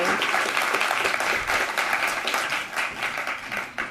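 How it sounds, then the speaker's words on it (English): An audience claps steadily in dense, sustained applause that fills the whole moment, with a voice faintly audible beneath it. "Let's have a round of applause"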